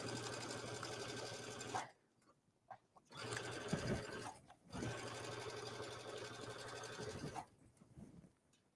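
A sewing machine stitches basting seams on a knit top, running in steady close bursts separated by short pauses as the fabric is repositioned.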